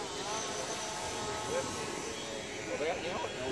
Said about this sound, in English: Whoa, drone.